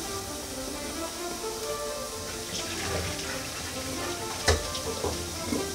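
Bacon sizzling alone in a frying pan, a steady close crackle and hiss throughout, with a soft clink near the end.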